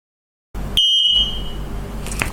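A single high-pitched electronic beep from an X-Sense wireless interconnected mini smoke detector sounds briefly during syncing, followed by a steady low hum and background noise.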